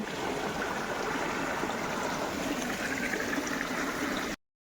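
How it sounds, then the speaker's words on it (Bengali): Continuous rushing water from a small hillside waterfall on Chakrashila hill, Kokrajhar district, a dense steady flow close by, cutting off abruptly at the end. "ঝর্নার পানি পড়তেছে"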